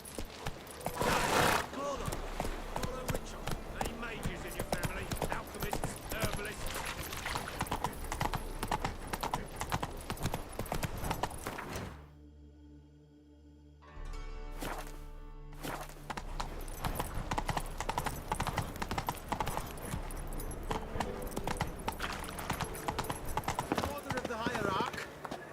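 Geralt's horse Roach gallops in The Witcher, a fast, continuous drum of hooves that runs almost throughout and breaks off briefly midway, with game voices and dialogue heard over it.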